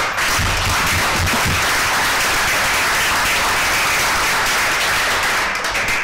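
Loud, dense applause from attendees at a municipal council meeting, continuous clapping that sustains at full strength for several seconds with no talk over it.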